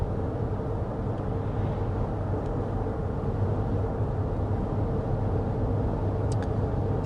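Steady low road rumble inside a Toyota Grand Highlander Hybrid cruising a Kentucky road, a constant broadband drone with no talking and a couple of faint ticks near the end.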